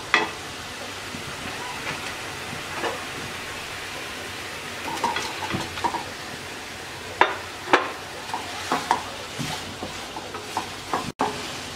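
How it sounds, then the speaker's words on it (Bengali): Fried pointed gourd pieces being stir-fried in spice paste over medium-low heat, a low sizzle under scattered scrapes and knocks of a spatula against the pan, with a few louder clatters midway. "এখন আমি দিয়ে দিচ্ছি ভেজে রাখা পটলগুলো, দিয়ে 5 মিনিটের মতো কষিয়ে নেব"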